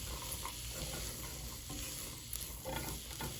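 Vegetables frying in a pan for a meaty pasta sauce, a steady soft sizzle with occasional stirring scrapes, close but low in level, with no voices.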